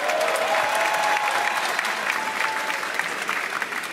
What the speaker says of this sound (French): Dossé, applaudissez-le bien fort.